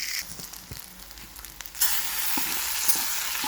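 Prawns frying in a pan until browned, a steady sizzle that swells suddenly louder midway and holds a dense, bright hiss, with a few soft stirring knocks.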